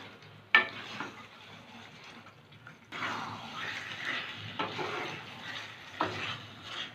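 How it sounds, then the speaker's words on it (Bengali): Chicken is stirred with spices in a hot pan over raised heat, giving a soft, steady sizzle of frying with occasional sharp scrapes and clinks of a utensil against the pan. "মশলার সাথে চিকেনটা খুব ভালো করে মিশিয়ে নেব।"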